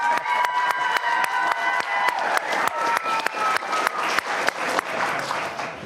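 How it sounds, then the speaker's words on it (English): An audience at a school district workshop breaks into lively applause, dense clapping with a few cheers and shouts mixed in, close and continuous throughout. "Let's clap again."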